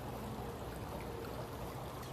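Creek water flowing steadily beneath an overhanging willow, a faint, continuous wash with a soft trickling texture and no voices.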